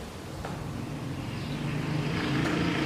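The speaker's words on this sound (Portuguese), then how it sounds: "vocês perdoem o barulho do carro" A car passes outside, its broadband engine and road noise swelling gradually and staying fairly faint and steady, with no voices.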